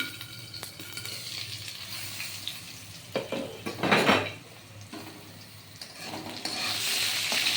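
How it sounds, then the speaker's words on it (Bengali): Potatoes sizzling in a pan while a utensil stirs and scrapes, with a louder burst of frying midway and a steady hiss. "আলু ভাজা হতে হতে এইটা ভিজবে মশলাটা ভিজবে আলুটা আরেকটু ভাজা হবে দেখুন"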